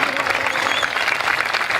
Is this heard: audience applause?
yes